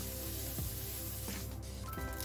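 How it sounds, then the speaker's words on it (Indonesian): Anchovies fry in oil with a constant dense crackling sizzle that fills the whole short stretch, close and steady, with a few faint clinks underneath and no voices. "Kita akan goreng terlebih dahulu ikan terinya sampai garing."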